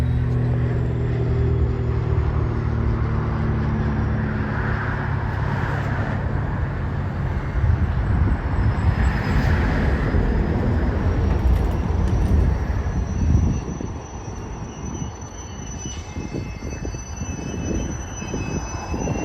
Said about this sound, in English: I did see some CSX trains, and those trains are actually going to be coming up shortly